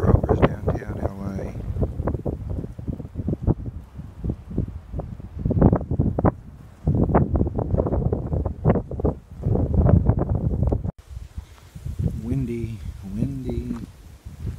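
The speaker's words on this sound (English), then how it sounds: "Windy." Gusty wind on a hilltop trail in the Santa Monica Mountains buffets the microphone in heavy rumbling bursts, loud and close, with a person talking at the start and again near the end.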